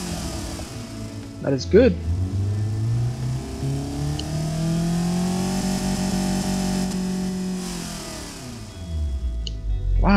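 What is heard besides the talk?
1977 Pontiac Iron Duke tuned engine starting and revving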